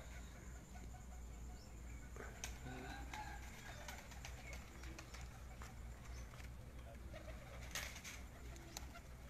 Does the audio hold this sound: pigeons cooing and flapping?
yes